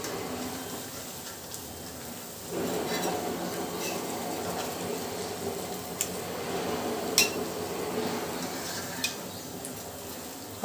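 Urad dal vadas frying in hot oil in a pan on high flame, with a soft bubbling fry and occasional light clinks and scrapes of a utensil turning them, fairly quiet and steady, no talk.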